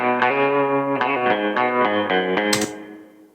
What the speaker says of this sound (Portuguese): por fim, um reverb hall.